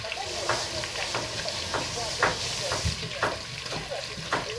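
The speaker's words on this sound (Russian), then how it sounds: "И все у нас зажарилось, зажарилось бочком." Food sizzling in a pan while making Georgian chakhokhbili: a constant hissing fry broken by regular scraping taps from stirring, close and moderately loud.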